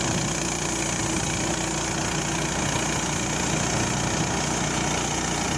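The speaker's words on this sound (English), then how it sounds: "Os31 Frontier Sawmill." A Frontier OS31 portable sawmill's engine runs in a steady, unbroken drone at close range, with no voices.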